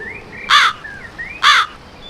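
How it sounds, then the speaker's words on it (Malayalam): A cartoon crow in an animated Malayalam moral story caws twice, each a short harsh burst about a second apart, loud and clear over a quiet background with no talking. "അക്കൂട്ടത്തിൽ വൃത്തിക്കാരിയായ ഒരു കാക്കമ്മയും ഉണ്ടായിരുന്നു."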